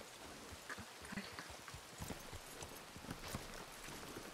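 Horse hooves clip-clop on a farm in a ranch role-play video game, with soft, quick, irregular steps over a faint continuous background hiss.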